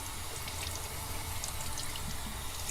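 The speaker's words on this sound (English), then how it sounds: "Probably run a little hot water." Hot water pours steadily from a sink tap while rinsing soap from a KN95 mask, a continuous close rush of running water with no voices.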